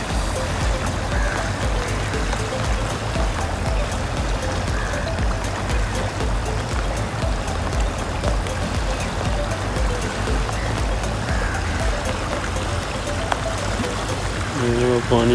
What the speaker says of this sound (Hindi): अब ये पुली पे क्रॉसिंग हो रही है पानी।